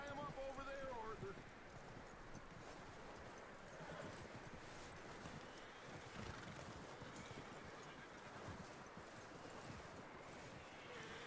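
Horse hooves clip-clop steadily on a trail in Red Dead Redemption 2, a rhythmic close patter under wind noise, with a brief neigh near the start and game dialogue over it.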